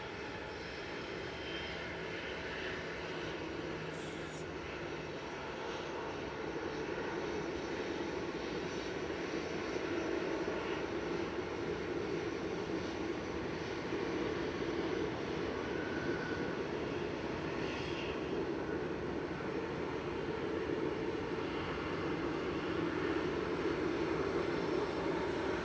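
A KLM airliner's engines roar steadily at Manchester Airport in the morning, a broad continuous rumble holding fairly constant and slightly building over the span, with no voices.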